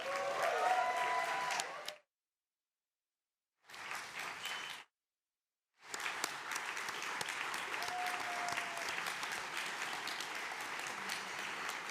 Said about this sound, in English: Let's all give a round of applause to Tova and Aaron.